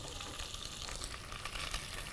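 Beef bacon and onion sizzling in melted butter in a pan, a dense, steady crackle of frying at close range, with no voices.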